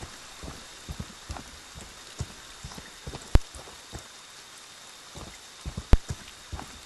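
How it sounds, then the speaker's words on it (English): Rain falling in Friday the 13th: The Game, a soft steady hiss of rainfall with scattered drop impacts and a couple of sharper taps, fairly quiet and with no voices. "It's raining."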